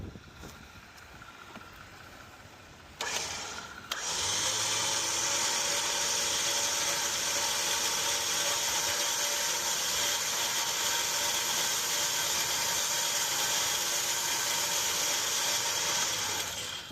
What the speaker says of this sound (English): we're gonna bring the Jeep in under tension. First thing I'm going to do is tighten up this line.